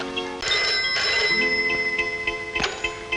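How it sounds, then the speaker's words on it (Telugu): A telephone rings on an outgoing call, a steady ringing tone with sustained pitched lines and light ticking pulses, fairly close and alone without talk. "ఉండు, నేను ఫోన్ చేస్తాను"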